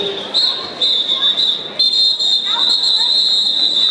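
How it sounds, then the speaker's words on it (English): A referee's whistle at a women's roller derby season opener between Muertas Locas and Hickory Street Hooligans sounds as a shrill, sustained tone in short repeated bursts over steady arena crowd hubbub. "Whistle blows right before she can come through on a..."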